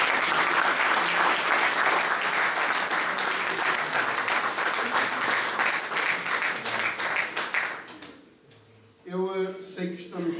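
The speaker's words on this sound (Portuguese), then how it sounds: "Para a direção eleita, para a direção que sai, um grande aplauso." An assembly applauds the newly elected and outgoing board, loud sustained clapping for about eight seconds that then fades, after which a speaker begins talking.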